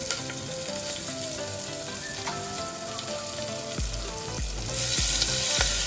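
Grated ginger, curry leaves and green chilli pieces sizzle steadily in hot oil in a pan for khichdi, a loud, constant frying hiss, with a few stirring knocks near the end.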